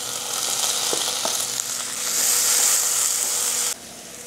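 Onions and tomatoes with spices sizzle steadily in a hot pan, a close, continuous hiss with a few light stirring knocks, ending abruptly quieter.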